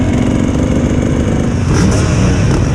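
A brand-new motocross SX250 dirt bike at a beach race runs loud and close, its engine revving with a rough, rattling mid-pitched roar that swells toward the end, with no talking.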